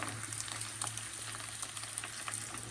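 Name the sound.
roti (bread) frying in oil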